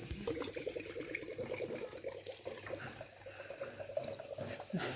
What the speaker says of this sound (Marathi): तांब्या भरला